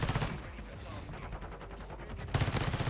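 Rapid automatic fire from the X13 Auto pistol in Modern Warfare 2, a dense continuous rattle of shots across the whole stretch, loud and close, with game effects underneath.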